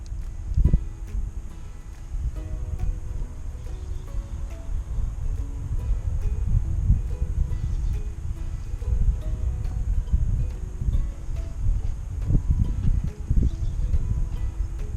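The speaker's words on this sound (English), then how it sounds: "the wind is kind of pushing me a bit too much that way." Wind buffets the microphone while someone fishes from a boat off Huntington Beach, producing a constant low rumbling roar with irregular gusty swells throughout and no clear voices.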